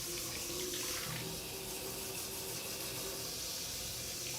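Running tap water splashing steadily into a kitchen sink during a rinse, a continuous close broadband hiss with no talking.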